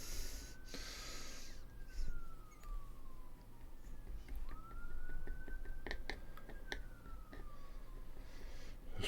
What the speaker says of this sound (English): you do get emergency sirens, unfortunately, as always